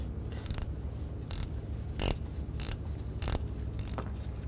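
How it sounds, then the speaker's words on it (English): Ratchet wrench loosening the idler pulley bolt on a Chrysler 200 drive belt, a handful of short clicking bursts spaced about a second apart over a low engine-bay hum. "And I'll just use a ratchet wrench."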